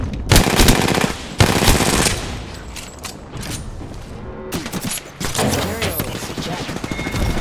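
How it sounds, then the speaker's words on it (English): Enemy gunfire in a shooter video game: rapid bursts of automatic fire and loud shots rattle in repeated volleys, with heavy thumps between them, continuing throughout at close range. "The enemies are shooting at Shields on that bandit."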